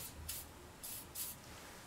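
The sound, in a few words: silicone spray being sprayed on a string trimmer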